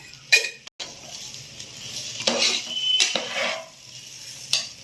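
Mushroom pulao made with oil, not ghee, stirred in a cooking pot: a spoon scrapes and clinks against the metal in several short bursts, close by, over a soft background hiss.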